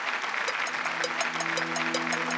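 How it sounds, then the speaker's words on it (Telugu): An audience at a televised Telugu singing show claps in a steady rhythm, sharp regular claps over sustained music, with no voices. "చప్పట్లు కొట్టండి"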